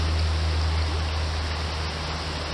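Continuous wash of flowing creek water, an even rushing hiss with a low steady hum beneath it and no voices.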